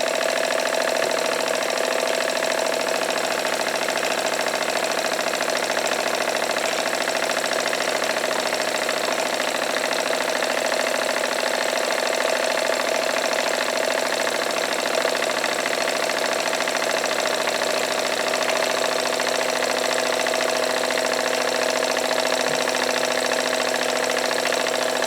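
Jensen Model 25 toy steam engine running continuously, a steady close mechanical whir with a constant pitch and fine rapid chatter, no voices over it.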